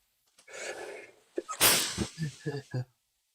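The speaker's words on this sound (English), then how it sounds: "I feel like I'm about to sneeze" A single sharp sneeze bursts out close up after a breathy, gasping build-up, followed by a few short vocal sounds and exhalations.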